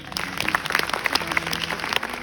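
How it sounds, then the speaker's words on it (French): A live audience claps at a French-language stage event, a steady patter of many hands with a few sharper individual claps standing out, sustained and fairly close. "Allez-y, applaudissez pour vous."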